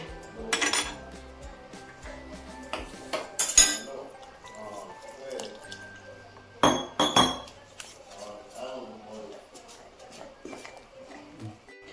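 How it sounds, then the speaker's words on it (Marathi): Ragi and jowar dosa batter being stirred in a bowl with turmeric and salt, with a spoon clinking against the dish in scattered bursts of scraping and tapping, up close, with quiet gaps in between. "चला तर आपण सगळं आता मिक्स करूया।"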